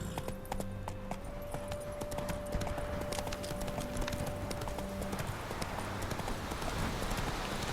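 In The Witcher 3 video game, a horse's hooves clip-clop steadily and close by at a fast pace, and a sustained tone rings out partway through.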